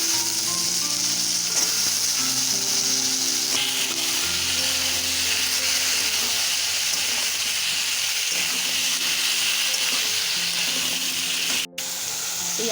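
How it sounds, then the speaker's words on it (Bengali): Cut potato and eggplant frying in a pan of browned onions, a loud, steady close-up sizzle that carries through alone with no voices. "এবার এর মধ্যে আমি কেটে রাখা আলু আর বেগুন দিয়ে দেবো।"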